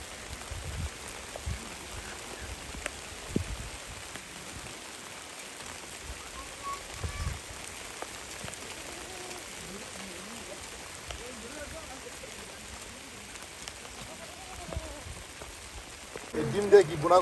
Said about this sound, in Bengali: বাহ, মুষলধারে বৃষ্টি শুরু হয়ে গেল